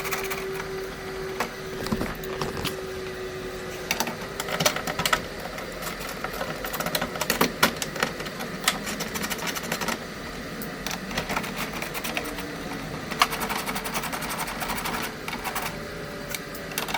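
Bolts being removed from the driver-side door of a 2002 Honda Accord V6 coupe, heard as a steady close clatter and ratcheting with busy metallic clicks throughout.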